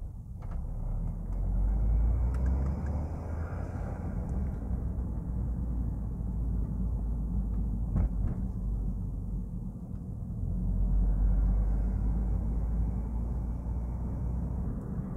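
A 2009 Peugeot 207 GTI with a 1.6-liter turbocharged engine driving through the city, low engine drone and road rumble from inside the car, rising and easing with throttle, no talk.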